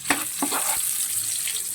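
Onion and garlic frying together in a pan, giving a steady close sizzle with a few brief stirring or scraping bursts near the start.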